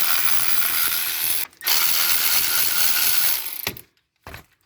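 A hand ratchet clicks steadily as it backs out 16 mm bolts on a Volkswagen EOS with a 2.0T TSI engine, a long close burst of rapid pawl clicks followed by shorter spurts, with no talking.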